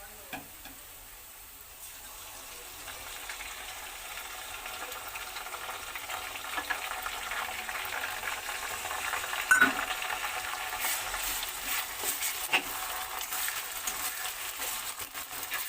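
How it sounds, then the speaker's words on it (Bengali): Ginger garlic paste frying with already browned onions in a pan for a village chicken curry, a soft steady sizzle that grows louder after a quiet start, with occasional scrapes and clinks of stirring. "এবার আদা রসুন বাটাটা আমি একটু ভালো করে কষিয়ে নেব।"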